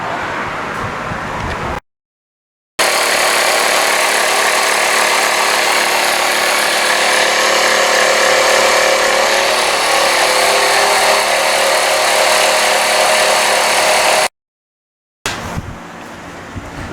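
Continuous loud air compressor running steadily while motorcycle tires are filled, a broadband hiss and motor drone that holds for about twelve seconds before cutting off, with quieter garage noise on either side.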